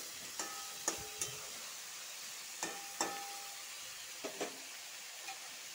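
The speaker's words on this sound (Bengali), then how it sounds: "আধা চামচের মতন হলুদ দিব। ভালো করে লাড়াচাড়া করবো।" Sliced ridge gourd with turmeric frying in a pan, a steady soft sizzle broken by several sharp clinks and scrapes of a spatula as it is stirred, with no talking.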